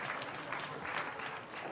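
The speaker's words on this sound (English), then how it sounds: "Everyone clap your hands" A summit audience claps hands together in a brief, faint, even patter of applause.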